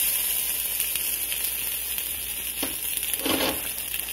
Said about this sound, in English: It's still on medium heat. And dump in this cream cheese.